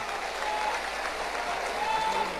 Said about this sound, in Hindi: तालियों की गड़गड़ाहट से इनका हम उत्साहवर्धन करें।